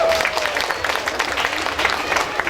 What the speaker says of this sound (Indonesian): Tepuk tangan buat Labuan Bajo.